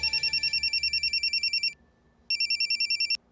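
An electronic phone ringtone trills in rapid warbling pulses, stops briefly, then rings again before cutting off.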